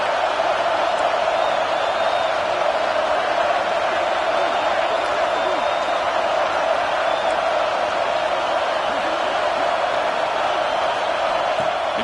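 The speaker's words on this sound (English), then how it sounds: "here comes the noise. This crowd is trying to inspire this defense to make a big red zone stop." A college football stadium crowd at a UCLA vs Georgia game makes a sustained, loud roar of noise for the defense, steady and unbroken, with scattered whoops.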